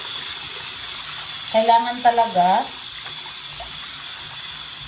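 Water runs steadily from a bathroom tap while turmeric milky soap is rinsed off skin, a constant close hiss that continues under a short stretch of speech.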